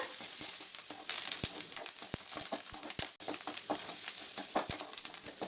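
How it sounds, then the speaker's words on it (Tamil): Onion, garlic and curry leaves sauté in hot oil for a veldt grape chutney. A steady close sizzle runs under sharp ladle taps and scrapes on the pan, broken by one brief pause. "நல்லா வதக்கி விட்டுருங்க."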